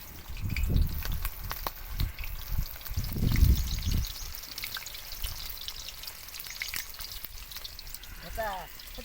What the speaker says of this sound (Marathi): तेल तापले आता मी फ्राय मारायला